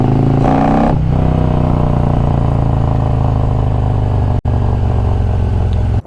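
Harley-Davidson 2020 Road Glide Special with a 128-cubic-inch big bore kit and higher compression, its deep loaded exhaust rumble steady and loud throughout, one brief cut near the end.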